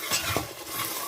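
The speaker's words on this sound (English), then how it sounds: "Then you can stir with the tomato." Tomato being stirred in a pot while making jollof rice, a short scraping and sloshing stir with a faint sizzle underneath, close and brief.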